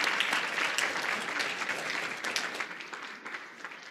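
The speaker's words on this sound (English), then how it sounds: "You can applaud." Dense audience applause at a Democratic party awards evening fills the hall, steady and full before slowly tapering off toward the end.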